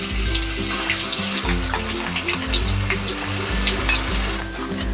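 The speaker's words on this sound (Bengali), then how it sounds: "এবার যে আমি বাটা মশলাটা বেটেছিলাম মশলাটাকে দিয়ে দেবো" Ground spice paste fries in a pan for a katla fish curry, with a loud, continuous sizzle and crackle that carries throughout under steady background music.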